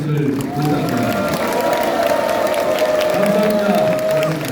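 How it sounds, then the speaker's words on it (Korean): A crowd at a launch ceremony at the Gwangju Kim Dae-jung Center applauds warmly for a guest speaker. Continuous loud clapping and crowd noise come with a steady sustained tone running underneath. "정규재 선생님에게 여러분 따뜻한 박수를 부탁드립니다."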